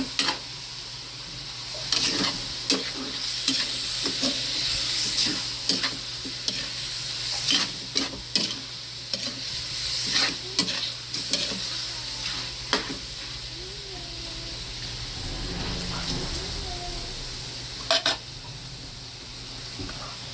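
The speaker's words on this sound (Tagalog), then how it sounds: "At haluin lang muna natin." A spoon stirs mixed vegetables frying in a pan, repeated sharp scrapes and clatters at an irregular pace over a continuous sizzle, with a chicken clucking faintly in the background.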